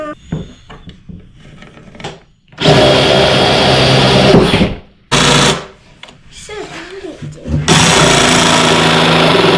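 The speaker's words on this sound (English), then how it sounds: "Now we got to drill a hole in it so the birds can get in there." A power drill bores a hole through scrap wood for the entrance of a birdhouse. It runs in three loud, sustained bursts separated by short pauses, with people talking in between.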